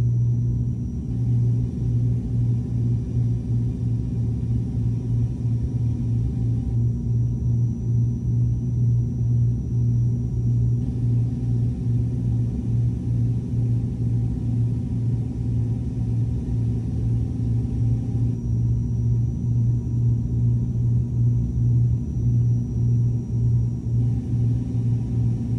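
Steady low cabin rumble inside an airliner descending to land in cloudy, drizzly weather during a storm, a constant engine and airflow drone with no talk.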